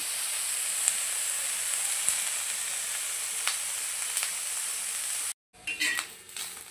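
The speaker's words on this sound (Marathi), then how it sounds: "अशा पद्धतीने काळसर असा कांदा आपल्याला भाजून घ्यायचा आहे." Chopped onion fries in hot oil, cooked down until dark brown for a chicken kala masala, giving a steady, close sizzle throughout before a sudden cut and a few clattering stirs at the end.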